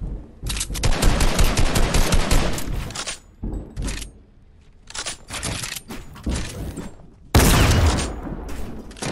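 Dense bursts of Fortnite gunfire sound loud and close, with rapid shots clustered in several volleys separated by short pauses and a heavier blast near the end.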